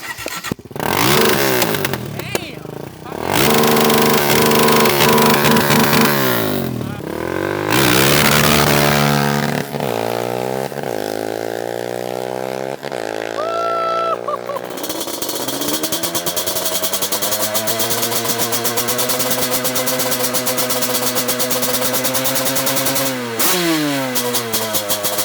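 An ATV engine fires up and roars close by, revving up and down repeatedly before settling into a loud, steady high-revving drone, with no talk over it.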